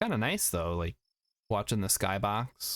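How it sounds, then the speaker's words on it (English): Faint, evenly spaced cricket chirps in the nighttime ambience of Kerbal Space Program, clearest in a short pause between stretches of someone talking. "You can hear the crickets chirping"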